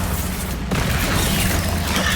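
A Bombarda blasting-spell explosion in the Hogwarts Legacy video game, a sudden loud boom that breaks in after a brief dip and then carries on as a dense, rumbling roar, close and heavy.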